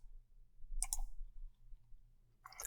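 Computer mouse clicks in software, two quick soft clicks close together and then another faint click near the end, in a quiet room with low hum.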